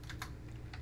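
Fast, soft tapping on a computer keyboard: a handful of quick, close keystrokes over a low steady hum, with no voices.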